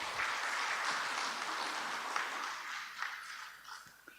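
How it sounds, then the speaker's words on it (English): Applause fills the hall at an academic excellence awards ceremony, a steady wash of many clapping hands heard from a distance. It stays fairly quiet throughout and thins toward the end. "Let's give him a very big round of applause."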